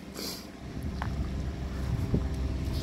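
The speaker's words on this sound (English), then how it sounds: "it is bitter cold out here, and the wind is blowing" Wind blowing outdoors in bitter cold, a steady low rumbling roar that buffets the microphone, with no voices.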